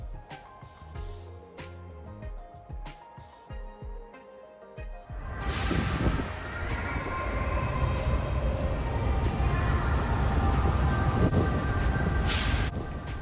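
A Tibetan train on the 253-kilometre run from Shigatse to Lhasa, first quiet with faint clatter, then a loud, steady rumble and rush of the moving train building and holding for several seconds.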